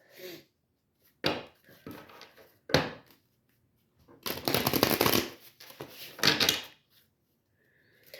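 Tarot cards being shuffled by hand, several bursts of riffling and slapping card sounds separated by brief pauses, close and clear with no talking.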